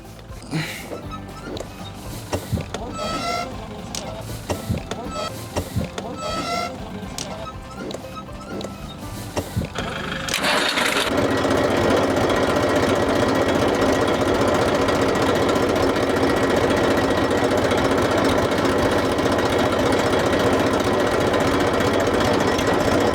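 A tractor engine fires up and settles into a loud, steady chugging drone that carries on for a long stretch, preceded by a few seconds of quieter outdoor rustling and handling noise.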